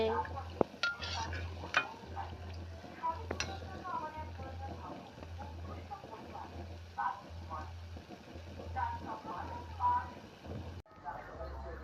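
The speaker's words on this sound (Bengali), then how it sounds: "এই যে আমার তালের বড়া ভাজা হচ্ছে" Palm fruit fritters (taler bora) fry in a pan while a utensil stirs them, giving a steady low sizzle with scattered scrapes and clinks, and a voice speaks over the cooking.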